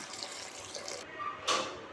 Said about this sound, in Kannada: ಈಗ ಇದೆಲ್ಲ ಚೆನ್ನಾಗಿ ಡ್ರೈ ಆಗಿ ಫ್ರೈ ಆಗಿದೆ ಟೈಮಲ್ಲಿ ನೀರು ಹಾಕೋಣ